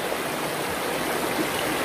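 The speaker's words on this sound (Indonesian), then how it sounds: "Adem ya kalau dengar suara gemericik air ya, bawaannya itu tenang, rileks." Water gurgles and trickles in a steady, soft stream heard alone as continuous broadband wash, fairly quiet and unbroken throughout.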